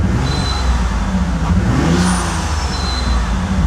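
A Bentley Continental GT engine with two dead cylinders and vacuum leaks revs close by, a rough, uneven mid-pitched roar that swells and dips over a few seconds, loud with no talking.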